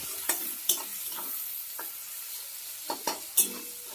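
Sliced onions fry with potatoes in a pan, with a steady sizzle under several sharp scrapes and clinks as a spatula stirs them. The sounds are close and clear, with no one speaking.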